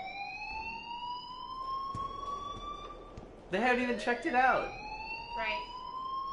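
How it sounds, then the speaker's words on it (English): A fire alarm in the video game Life Is Strange rings as a steady, continuous high electronic tone throughout, with a person talking over it partway through. "please turn off that alarm since that's your job"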